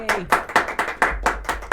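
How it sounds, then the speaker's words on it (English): A small group claps in a quick, even rhythm for a guest on a show, close and alone, about eight sharp beats in under two seconds. "let's give Annette a big round of applause because it's so last minute"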